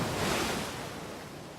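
Ocean surf washes onto the beach near Santa Monica Pier as a steady broadband roar with a touch of wind buffeting the microphone, fading slightly over a brief stretch with no voices.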